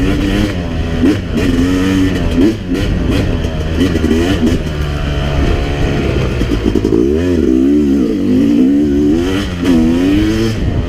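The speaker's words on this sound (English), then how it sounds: "with the 250X here, you definitely have to ride this more like a traditional, you know, two-stroke" A 2017 Yamaha YZ250X two-stroke dirt bike rides nearby on an autumn trail, its engine buzzing and revving up and down continuously with raspy throttle changes and clattering, loud and close throughout.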